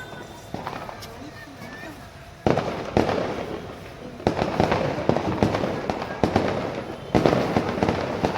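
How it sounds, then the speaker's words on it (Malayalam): Diwali fireworks burst in sharp, repeated cracks and booms, some near and some distant, with voices talking in between. "പുറകിലെല്ലാം പ്രകൃതിയായിട്ട് വെടിക്കെട്ട് നടന്നുകൊണ്ട് കണ്ടില്ലേ ദീപാവലിയുടെ ആഘോഷം"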